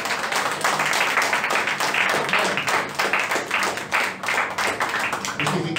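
A church congregation claps in sustained applause for several seconds, dense and steady, with voices mixed in beneath the clapping.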